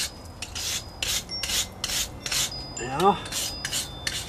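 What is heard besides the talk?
rubbing brick wall joints to clean concrete residue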